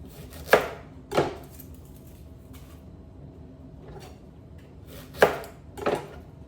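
Knife chopping red onion on a cutting board, heard as four distinct sharp chops in two pairs, close and fairly loud, with quiet gaps between them and no talking.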